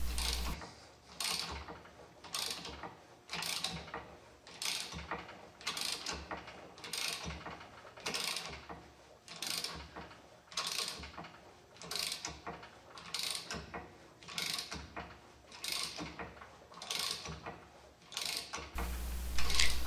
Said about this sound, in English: Tighten press screw to install lower ball joint.